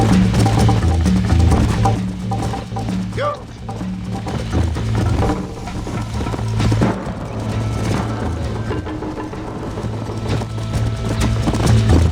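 Horse hooves clip-clopping in the video game Red Dead Redemption, a steady rhythmic trot with an occasional whinny, mixed with game music throughout.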